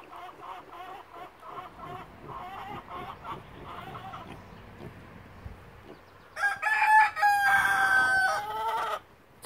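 Free-range chickens cluck and chatter at moderate distance on a homestead, then a rooster lets out a loud, drawn-out crow near the end; no one speaks.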